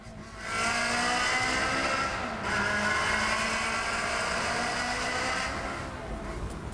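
A Ferrari Spider's 3.5-litre engine, which spins up to 8,500 RPM, revs hard and loud in a sustained high-pitched wail that holds steady for several seconds, with a brief dip midway before climbing again, close and dominant.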